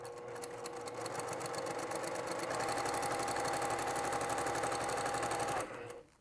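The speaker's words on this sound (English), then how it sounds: "here we go to finish out this seam" A sewing machine stitches a quilt seam on a Mariners Compass quilt, running in a fast, steady close mechanical whir for about five seconds before slowing and stopping, no talking.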